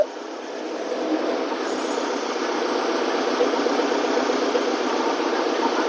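A Lovol 354 tractor engine runs steadily at idle after repair, a continuous close mechanical drone with even vibration and no speech.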